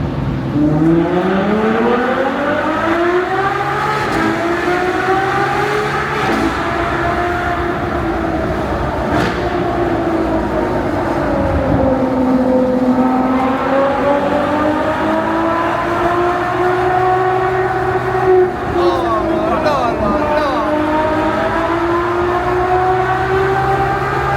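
Ferrari F12 Novitec V12 engine accelerating on the streets of Monaco, a loud continuous high-pitched howl that rises, dips and rises again as the revs climb and fall over about twenty-four seconds.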